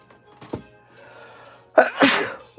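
A quiet faint hum and a soft sniff give way to a sudden loud sneeze at close range, a sharp burst followed by a breathy trailing exhale.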